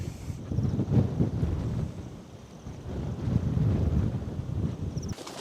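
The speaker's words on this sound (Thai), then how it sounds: "ดูต้นไม้พวกนั้นโดนลมจนมันโค้งไปอย่างนั้นแล้วนะครับ" Strong wind gusts across a mountaintop during a storm, roaring and buffeting the microphone in loud surges that ease briefly and then build again, with no voices.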